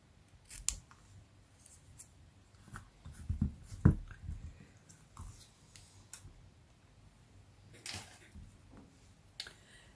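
Scissors trim paper for a handmade Thanksgiving card, giving several short crisp snips at close range in a quiet room, with a few soft handling taps between the cuts.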